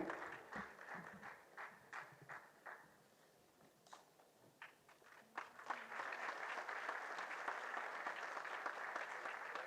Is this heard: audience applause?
yes